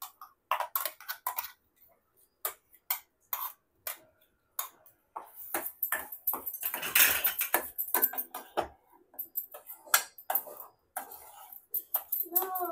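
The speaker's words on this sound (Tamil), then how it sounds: "நல்லா கை விடாம இதை அப்படியே கிளறிக்கலாம்." Rava halwa baby food stirred in a pan, a spoon scraping and clinking against the metal in irregular taps, close and fairly quiet, with a voice talking intermittently.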